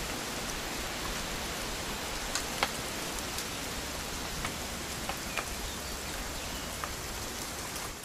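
Steady rain in What Remains of Edith Finch, a continuous even hiss with scattered brief drop ticks, alone and fairly faint throughout.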